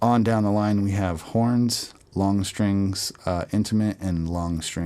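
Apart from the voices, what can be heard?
None of the usual background noises is heard.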